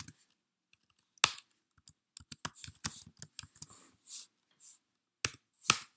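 Code is typed on a computer keyboard in sparse, irregular bursts of sharp, close key clicks separated by brief pauses, with several louder strikes, in a quiet room without talking.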